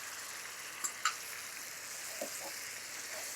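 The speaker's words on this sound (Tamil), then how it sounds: "இப்போ இந்த மாதிரி நல்லா கொதி வருது பார்த்தீங்களா?" Tomato ghee dal boils in a pan with a steady, close bubbling hiss. A few soft pops sound near the start, and no one speaks.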